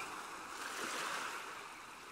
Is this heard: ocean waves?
yes